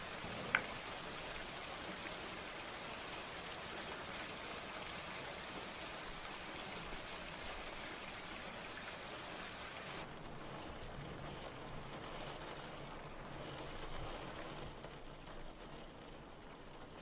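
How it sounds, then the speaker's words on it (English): Steady rain falls outside as a soft, continuous hiss of drops on surfaces, fairly quiet and unchanging, with a slight dulling of the brighter texture after about ten seconds and no talking. "It's raining outside."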